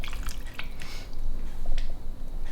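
Water poured a little at a time into the bottom of a pan holding stuffed peppers, producing close, soft splashing and dripping sounds in brief irregular bursts.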